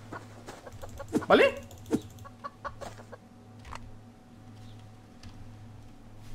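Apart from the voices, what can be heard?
chicken clucking in a video game (Subsistence)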